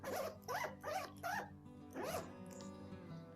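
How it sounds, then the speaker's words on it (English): Plastic zipper on a Dooney & Bourke Toscana canvas bag being pulled, several quick rasping strokes in a row followed by one longer zip, close and clear with no voice over it. "It's a plastic zipper, but it works really well and really smooth."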